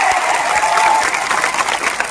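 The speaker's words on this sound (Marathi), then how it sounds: "त्या माणसासाठी एक टाळ्या, सगळ्यांसाठी टाळ्या." A crowd at a silent protest rally in Beed claps loudly and steadily for a man, with a dense patter of hands throughout.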